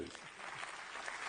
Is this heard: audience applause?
yes